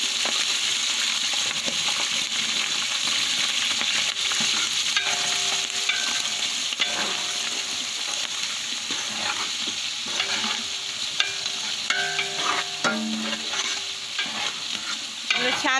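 Onion and green chilli sizzle steadily in hot oil while being stirred for a Marathi-style pulao tempering, with continuous close frying hiss and scraping spoon strokes throughout.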